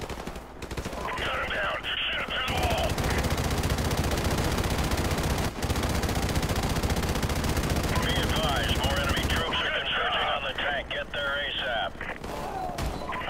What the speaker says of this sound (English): I love mounted machine guns.